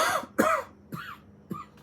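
Several sharp coughs come in separate bursts, loud and close, during a relaxed indoor knitting chat, with quiet pauses between them.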